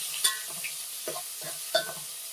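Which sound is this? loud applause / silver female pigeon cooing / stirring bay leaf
stirring bay leaf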